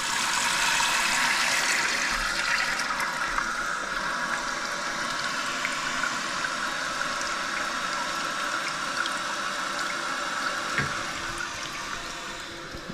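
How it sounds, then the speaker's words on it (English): Toilet tank refilling through its newly connected supply line after the water is turned on, a steady close rush of filling water that holds for most of the time and then eases and quiets near the end. "Let's get the water on."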